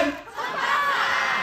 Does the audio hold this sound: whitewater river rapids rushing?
no